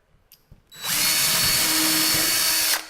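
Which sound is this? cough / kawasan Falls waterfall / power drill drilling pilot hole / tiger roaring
power drill drilling pilot hole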